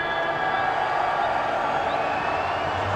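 Massed cricket crowd at a PSL 2022 Lahore Qalandars vs Peshawar Zalmi super over, a dense continuous roar of cheering and shouting that holds steady throughout.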